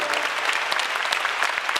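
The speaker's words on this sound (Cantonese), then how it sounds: "我哋可唔可以起身俾啲掌聲佢先？" A church congregation applauding, a dense, steady burst of many hands clapping at once, close and fairly loud with no gaps.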